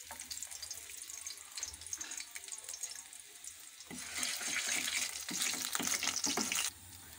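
Garlic frying in oil in a pan for egg fried rice, a soft crackling sizzle that grows louder and busier partway through, with stirring scrapes, close and fairly quiet.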